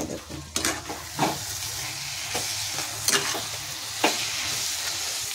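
Poppy-seed cabbage frying in a pan, a soft steady sizzle broken by a handful of sharp scraping stirs of a spoon against the pan, close up, with no talking.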